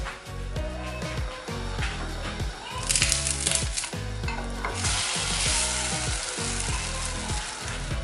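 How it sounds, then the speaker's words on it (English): French toast fries in a pan with a steady close sizzle, broken by occasional scraping and stirring sounds while someone talks over it. "Now we are going to fry both sides 2 minutes each side"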